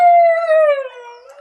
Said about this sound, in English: The dogs are starting to make a noise